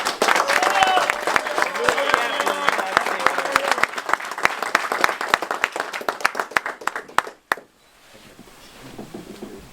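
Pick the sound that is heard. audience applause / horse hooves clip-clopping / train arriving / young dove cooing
audience applause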